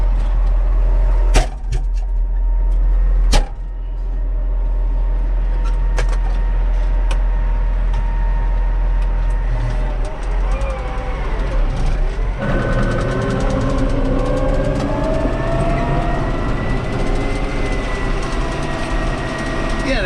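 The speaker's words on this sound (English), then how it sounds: "It's an MTX 135, 135 horsepower. Cummins engine." A McCormick MTX 135 tractor with a 135-horsepower six-cylinder Cummins diesel runs at a steady, deep, throaty idle nearby, with a couple of sharp knocks early on and the engine note shifting slightly partway through.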